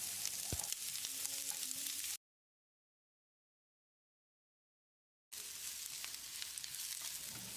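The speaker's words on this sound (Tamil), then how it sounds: "வெங்காயத்தை செவந்து வர அளவுக்கு வதக்கிடலாம்." Sliced onions sautéing in oil in a home kitchen pan, a steady close sizzle with stirring scrapes, broken by a stretch of dead silence before the frying resumes.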